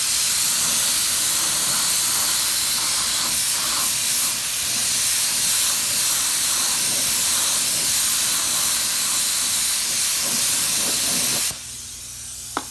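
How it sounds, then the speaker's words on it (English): A spray gun laying down black solvent base coat on a car panel, a loud, steady airy hiss that runs unbroken for about eleven seconds before cutting off abruptly, leaving quiet room tone. "I'm going to be spraying some black solvent base coat"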